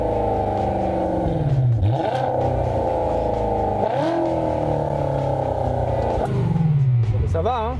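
A modified Volkswagen Passat TDI diesel engine revs hard in a loud, harsh, screaming whine. The pitch rises and falls through repeated climbs and drops, then ends in a quick wavering burst.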